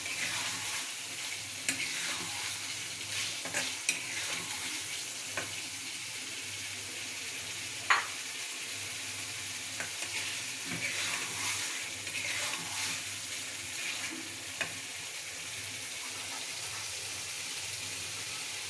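Frying pan sizzling steadily as eggs go in for a chicken biryani, a continuous moderate hiss with scattered small pops and clinks, no talking over it.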